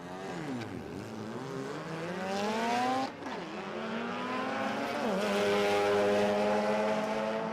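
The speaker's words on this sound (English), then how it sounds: "a couple of fancy trays going down the track, ripping through the gears on a Saturday morning" Tray-back utes, a Datsun and a Mazda, one with a 13B rotary, tear down a drag strip in Australia, engines howling and climbing through the gears with two clear shifts, loud and sustained as they pass.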